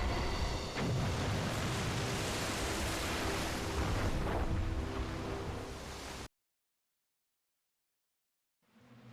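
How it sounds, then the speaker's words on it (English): Roaring, rushing water from a ship plunging over a waterfall in the Devil May Cry video game, a loud dense wash that runs for about six seconds, cuts to silence, then faintly returns. "the ship's going over a waterfall!"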